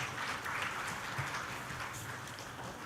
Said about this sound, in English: you want to give them a big round of applause, ladies and gentlemen